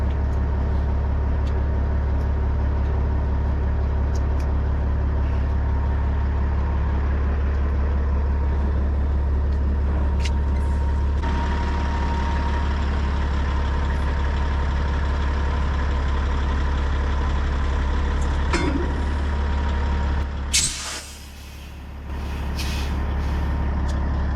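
A truck idles steadily at close range with a deep, continuous engine rumble, then near the end comes a sharp hiss as the air brakes are set while the trailer is being dropped onto its landing gear.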